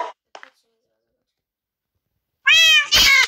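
In Minecraft, a cat gives two clear, loud meows near the end, following a couple of brief faint sounds and a long silence.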